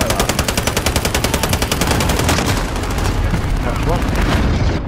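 Sustained rapid automatic gunfire in Call of Duty Modern Warfare on PS4, loud and dense with steady rhythmic shots and heavy booming underneath, while a voice speaks briefly over it.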